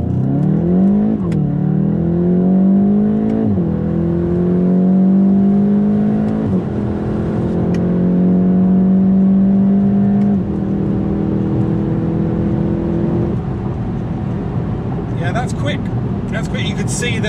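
A VW Golf TCR accelerates hard through several gears on a dry road, its engine note rising and dropping back with each shift, loud and close, while someone talks over it.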